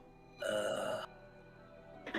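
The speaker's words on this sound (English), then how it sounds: "Burp." A single short burp, close and clearly audible over a quiet background, followed by a brief faint sound at the end.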